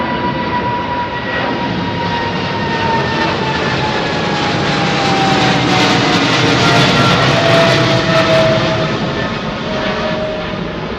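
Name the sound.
Delta airliner departing London Heathrow runway 09R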